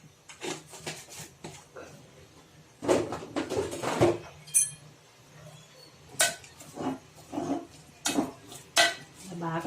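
A spoon stirs bottle gourd curry seasoned with chili powder and turmeric in a pot, producing repeated scraping clinks against the metal at an uneven rhythm, close and fairly loud.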